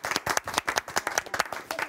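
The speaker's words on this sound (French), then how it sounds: "Ah oui, on s'applaudit, purée." A small group at a Star Academy rehearsal claps, the individual hand strikes distinct and uneven, close and lively for a couple of seconds.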